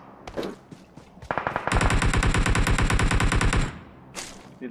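Video game gunfire from AWM and Groza weapons: a few scattered shots, then a long, fast burst of automatic fire, ending with another short volley.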